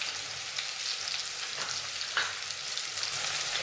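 Chopped onion, green chili and garlic frying in oil in a pan, a bright continuous sizzle with occasional stirring scrapes, close and steady with no talking.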